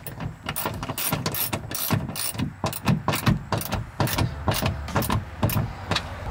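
A ratchet wrench loosening a bolt in a car, close and loud, with steady rapid ratcheting clicks in uneven bursts, no talking.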